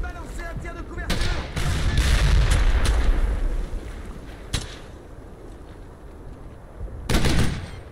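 Covering fire in the World War II video game Brothers in Arms: Hell's Highway cracks out as sharp gunshots and rolling bursts, loud and close, with a quieter lull before another heavy volley near the end.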